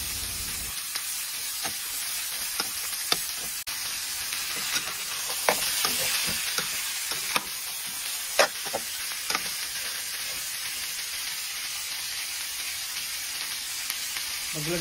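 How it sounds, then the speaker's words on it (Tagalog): Onion and garlic sautéing in rendered fat with browned pork ribs in a pan, a steady bright sizzle throughout, broken by intermittent scraping and stirring knocks close by, with no voices. "Nag-brown na yung karne, tapos mamantika na. So, ilagay ko na yung sibuyas saka bawang."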